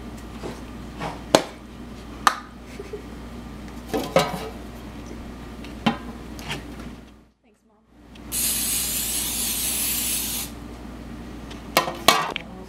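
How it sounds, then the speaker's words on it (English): Cooking spray hisses onto a pizza pan in one steady burst lasting a couple of seconds, set among light clinks and taps of the pan and kitchen handling. "we are first going to grease it with cooking spray"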